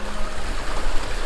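Water gushes steadily out of a homemade ram pump, a loud continuous rushing flow close by, with no talk.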